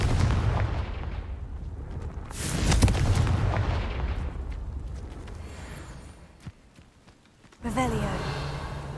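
Confringo blasting spell explosion in Hogwarts Legacy, heard as a loud burst followed by a long rumbling tail that fades, then another sharp blast near the end.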